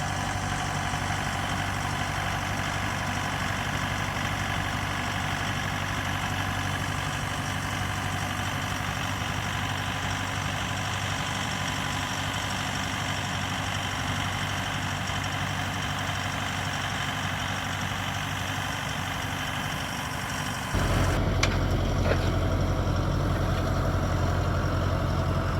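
A big tractor at work expanding a small garden idles with a steady low rumble for over twenty seconds, then its note deepens and grows slightly louder near the end, close and continuous, with no voices.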